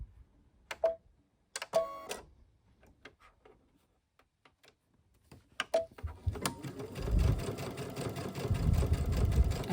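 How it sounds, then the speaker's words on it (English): Scattered clicks and taps, then a sewing machine starts up and hums steadily, stitching a rope bowl at a constant pace close by. "we're just gonna go back to the sewing machine"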